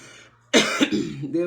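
One sudden, harsh cough close to the microphone, followed by a short throat-clearing rasp.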